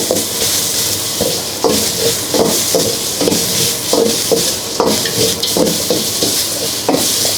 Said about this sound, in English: Fry until the prawn already cooked, and then put curry paste.